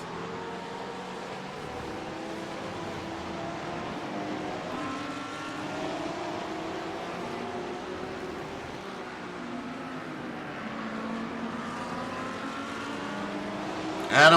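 Porsche GT3 race cars roar around the Zandvoort circuit, engines droning and rising in pitch as they pass, with a commentator talking over the steady motor noise.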